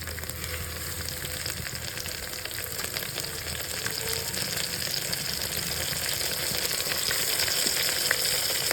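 Green chilli, ginger-garlic paste, mint and coriander sauté in hot oil for biryani, a loud, continuous close sizzle with faint stirring, steady and unbroken with no voices.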